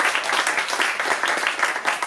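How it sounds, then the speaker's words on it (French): At a slam poetry tournament, an audience claps briskly and warmly, the many hands merging into a close, continuous patter for about two seconds. "on applaudit très très fort"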